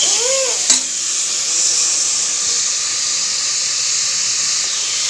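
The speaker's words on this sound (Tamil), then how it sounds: "இந்த நல்லா வதக்கிக்கோங்க. அது ஃபுல்லாகவே அந்த மாதிரி கலர் மாறணும்." Masala sizzling and frying steadily in a hot pan as it is sautéed until it changes colour, a constant close hiss with a brief stir and clink near the start.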